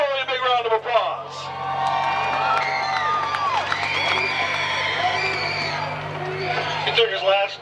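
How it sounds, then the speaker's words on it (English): A speedway crowd cheers and whoops at a night of destruction event, the loud sustained roar of voices spreading across the grandstand with scattered shouts and a little clapping. "Give Neil Rowley a big round of applause."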